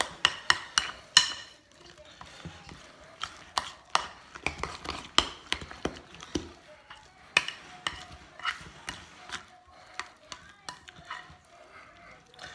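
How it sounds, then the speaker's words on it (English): Creamy Cajun potato salad being stirred in a bowl, with a long run of sharp, irregular spoon clacks and scrapes against the bowl, close and fairly loud, thinning out toward the end. "Make sure when you stir in this, you mix it all the way down here towards the bottom"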